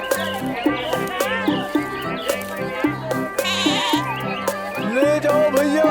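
Goat bleating at a busy market, with repeated wavering bleats over a steady background of music and bustle.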